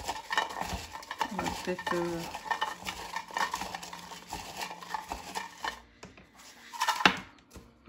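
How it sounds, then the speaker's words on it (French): Stirring and mixing by hand in a container, a busy clattering scrape with some utensil-on-dish contact, fairly close, with a brief spoken remark near the start and a short pause near the end. "si je mélange pendant presque une minute, au bout d'un moment"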